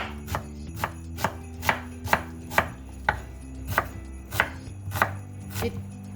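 A knife chops an onion on a board beside a cooking fire, about a dozen crisp, evenly spaced chops at a steady, unhurried rhythm, close and clear with no talking.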